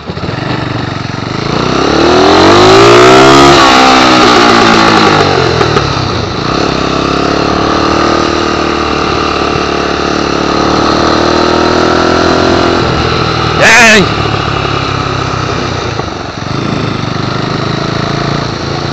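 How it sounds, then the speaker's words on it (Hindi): A custom chopper motorcycle engine runs loudly and close by, its exhaust rumbling steadily with a few rising revs and a short sharp burst near the end. "तो बाइक तो चालू हो गया है, एग्जॉस्ट का साउंड सुन लो"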